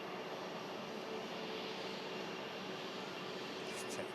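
A Virgin Atlantic Airbus A350 airliner sits running during a pre-flight hydraulic check at Manchester Airport, giving a steady, continuous engine roar and broadband rush that holds level throughout, with no talk.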